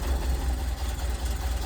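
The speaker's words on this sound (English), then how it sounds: "Obviously, I have the engine running right now" A 1975 Porsche 911 with original paint idles nearby with the hood and trunk open, a steady low engine hum and vibration that runs evenly throughout, with no talking.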